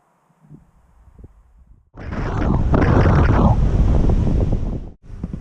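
Wind gusting hard against the microphone with ocean surf breaking on the rocky coast at Strömstad, a loud roaring rush lasting about three seconds before cutting off, with quieter wind before and after.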